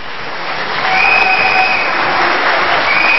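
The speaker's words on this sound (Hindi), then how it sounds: "शाहरुख साहब के लिए तालियां होनी चाहिए" Audience applause for an illusionist on a studio stage show, a dense, sustained wash of clapping from a large crowd with faint cheering, building slightly after the first second and holding steady.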